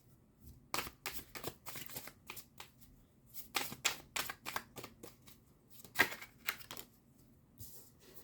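Tarot cards being shuffled by hand in a series of soft, quick riffling bursts with brief gaps, close but quiet, no voices over them.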